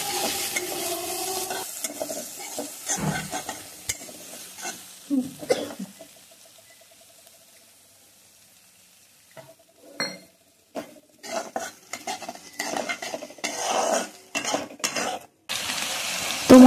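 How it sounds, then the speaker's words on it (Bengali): Ground spice paste stir-fried with splashes of water in a pan for a spicy fish and potato curry: repeated spoon scrapes and clatters against metal over a low sizzle, with a quiet pause in the middle, close up. "এবার কিন্তু ভালোভাবে জল দিয়ে অল্প অল্প করে কষিয়ে নেব মশলাটাকে খুব ভালোভাবে"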